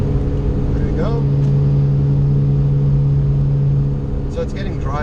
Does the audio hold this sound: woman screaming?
no